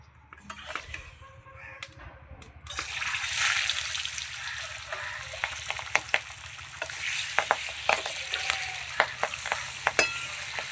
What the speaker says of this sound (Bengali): মাছ ভাজা তো বসিয়ে দিয়েছি